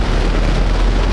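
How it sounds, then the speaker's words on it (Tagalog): Heavy rain pours steadily and loudly, a dense continuous roar with no voices over it. "Lakas ng ulan, no?"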